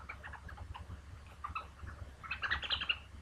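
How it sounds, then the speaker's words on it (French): A baby toy gives off a series of bird-like chirps and squeaks, brief and high, rising to a brighter cluster of tweets near the end. "fait un bruit comme ça d'oiseau"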